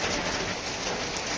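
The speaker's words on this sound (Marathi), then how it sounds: "मस्तच रिमझिम पाऊस" Light drizzling rain falls under a cloudy sky in a garden of hibiscus and chili plants, a soft, even hiss that holds steady and close.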